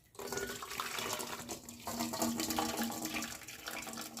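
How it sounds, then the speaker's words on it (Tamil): Water pours off a pot of boiled potatoes while lunch is cooked: a steady, close splashing drain that runs almost without a break for about four seconds, with no talking. "இப்போ தண்ணியை எடுத்து விட்டுருவோம்."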